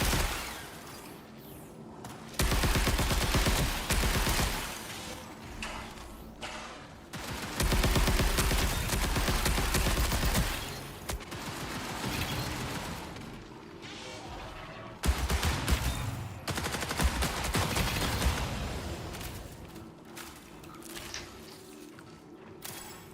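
Dense, sustained bursts of battery gunfire in Borderlands 4, loud rapid shots in long volleys with brief pauses between, heavy and crashing throughout.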